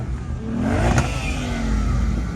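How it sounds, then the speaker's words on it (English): A manual-transmission Ford Mustang at an outdoor modified car show revs its engine in a quick rising roar that peaks and falls back, heard at moderate distance amid crowd noise. "Hey, Mustang, come on, man. Do something. Hey, you got a manual. Rev it out."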